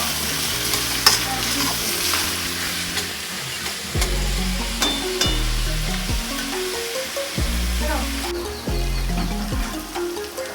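Ginger and garlic fry in a pan while being stirred, a continuous sizzle broken by repeated scraping and clattering strokes, alongside a low humming drone.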